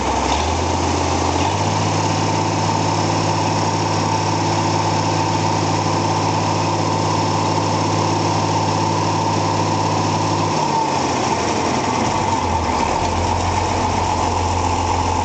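An Oliver 1800 tractor engine with low oil pressure runs at about 900 RPM, a loud, steady droning rumble with a low hum that shifts near the end, heard up close with no talking.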